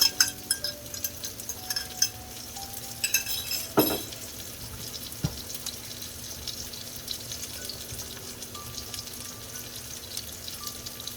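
Ground beef and finely chopped onions fry in a pan for shepherd's pie, a soft steady sizzle with a few clinks and scraping stirs of a utensil against the pan, fairly quiet and with no talking.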